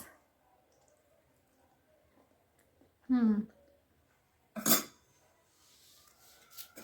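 Dishes being moved and set out for washing in a home kitchen, two brief clinks and clatters of plates and cutlery in an otherwise quiet room.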